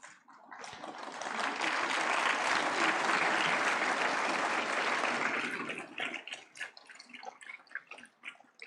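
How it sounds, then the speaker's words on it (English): Audience applause at an award ceremony in a large hall, dense clapping that rises quickly, holds strongly for several seconds, then thins out into scattered claps. "A big round of applause"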